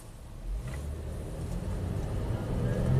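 Honda car pulling away from a stop and holding a steady throttle, a continuous low engine rumble that builds slightly over a few seconds, heard from inside the vehicle; the car has a suspected transmission fault at around 100k miles.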